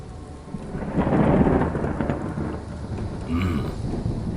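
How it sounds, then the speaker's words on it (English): Thunder rolls in a rainstorm, a deep rumble swelling to a peak and slowly fading over steady rain on surfaces, fairly close and loud with no voices. "And yet there was another roll of thunder, closer from the east, while the western breeze continued to blow."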